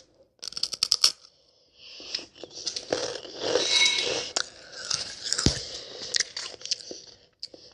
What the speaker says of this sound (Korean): 그럼 한번 먹어보도록 하겠습니다. 한 입 먼저.